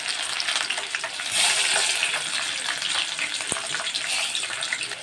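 Corn kernels fry in hot oil, a close, steady crackling sizzle with dense bubbling that swells and eases slightly over a few seconds.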